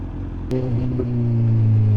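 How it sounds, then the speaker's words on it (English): Decatted BMW S1000XR motorcycle fitted with a Black Widow exhaust, a loud low engine drone that steps up and holds steady, with faint crackles over the rumble and no clear separate pops. "you definitely hear the pops and the burbles though, clearly"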